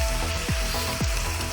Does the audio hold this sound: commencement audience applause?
no